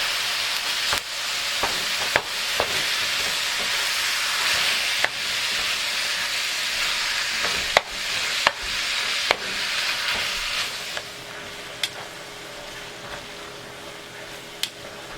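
Minced beef and onions fry in a pan with a steady, close sizzle, broken by sharp clicks and scrapes of a utensil stirring and breaking up the meat; no one speaks.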